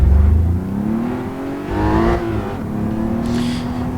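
Porsche Cayman GT4 with a manual gearbox in a racing simulator, its engine note rising and falling through a rev, loud and close with a brief higher whine near the end.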